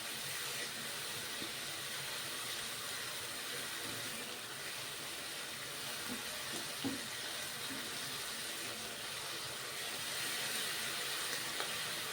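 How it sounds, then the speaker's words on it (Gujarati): Water pours steadily into a pot for pea pulao, making a continuous faint rushing splash with small bubbling variations throughout and no speech. "અહીંયા આપણે અડધા ગ્લાસ જેટલું પાણી એડ કરીશું"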